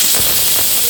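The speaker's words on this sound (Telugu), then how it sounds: "ఇదైతే సెకండ్ విజిల్ ఇంకొక విజిల్ వస్తే మన పప్పు అయిపోతుంది" A pressure cooker cooking tangy Andhra-style tamarind-leaf dal lets off a loud, close, continuous hiss of escaping steam for a brief moment.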